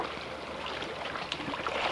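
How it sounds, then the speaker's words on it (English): Water flowing and trickling steadily nearby, a constant watery rush with a few faint splashes and nothing else over it. "You love the sound of that water"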